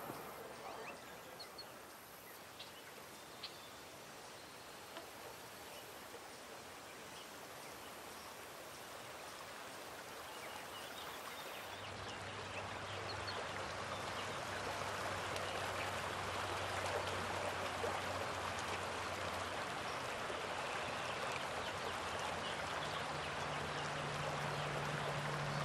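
Irrigation water channeled from Mexico flows steadily over a farm field, a continuous rushing wash that grows fuller and louder partway through, with no voices over it.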